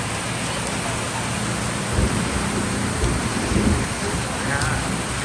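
Heavy rain pours steadily in the Philippines with a dense hiss and low rumbling of thunder swelling a couple of times, constant throughout with no clear voices.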